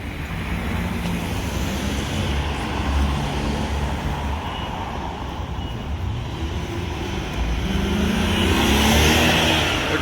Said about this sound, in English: There goes a BMW, I think that was an M5. It was either that or a 550.